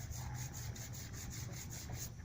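A clay bar is rubbed back and forth over contaminated car paint, giving a close, gritty scraping with a rapid repeating rhythm of strokes.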